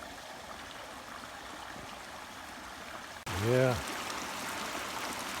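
Water trickles and flows steadily through a concrete culvert past a tangle of roots, a continuous close-up stream sound with someone briefly speaking over it partway through.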